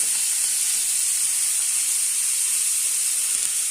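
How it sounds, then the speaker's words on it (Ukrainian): Steady, bright sizzling hiss of beef frying with onion in a pan that is not yet fully heated, continuous and fairly close, with no voices. "І м'ясо смажимо."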